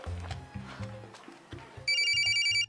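An electronic telephone ringtone sounds near the end in a steady, bright, repeating trill, cutting in over background music and other sounds.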